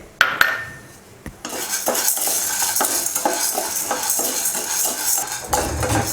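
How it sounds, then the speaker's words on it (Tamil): Chana dal dry roasting in a pan while being stirred with a spoon, a few sharp clinks at the start, then a continuous loud scraping, rattling rustle of dry lentils shifting against the metal. "கடலைப்பருப்பு நல்லா வறுத்தாச்சு, அதையும் மாற்றி வச்சிடலாம்"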